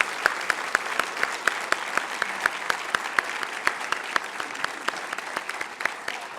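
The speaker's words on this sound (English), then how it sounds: "let's give this class of 2017 some applause here" A room full of people applauding steadily, dense overlapping claps sustained throughout at an even, moderate level.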